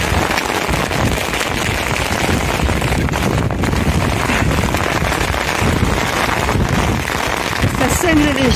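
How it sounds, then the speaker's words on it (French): Rain and wind lash an outdoor walker caught in a downpour with hail during a long-distance hike across France, a dense, steady roar of drops and gusts filling the whole stretch, loud and close to the microphone. "comme vous pouvez le voir ou l'entendre, nous sommes sous la pluie, le vent"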